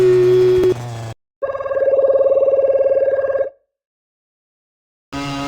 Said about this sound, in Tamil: உங்கள் ஃபோன் ரிங் ஆகுறே